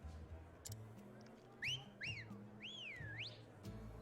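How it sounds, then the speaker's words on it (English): Several rising and falling wolf whistles from characters in the role-playing game Octopath Traveler ring out in quick succession over a low, sustained in-game music bed. "Of course they have the wolf whistles."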